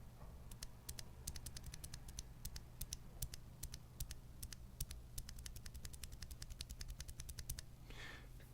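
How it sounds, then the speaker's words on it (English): Bare 72-gram Arctos keyboard switches with no keycaps are typed in a fast, fairly even run of sharp, close clacks over a faint low hum, stopping shortly before the end. "And this is the 72 gram Arctos."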